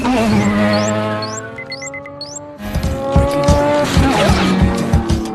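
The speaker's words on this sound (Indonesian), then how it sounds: "melihat sebuah mobil yang terlihat barbar, dengan santuinya Han menyuruh Sen untuk mengalahkannya" Street racing cars rev hard in a Tokyo drift setting, with a sustained tire squeal and skidding over loud engine roar, then gear-shifting bursts as the cars accelerate close by.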